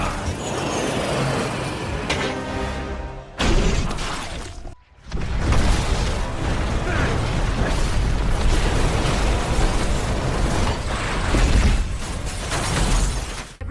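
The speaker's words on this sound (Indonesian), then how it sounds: "Max meledakkan granat yang ada di genggamannya, sehingga terjadilah ledakan di dalam kapsul itu" A grenade detonates inside an enclosed capsule in a film scene, heard as loud, dense blasts and roaring debris with a brief near-silent gap before another sustained, booming burst of chaotic noise.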